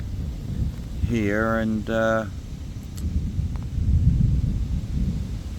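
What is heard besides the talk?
thunder during a thunderstorm at a lake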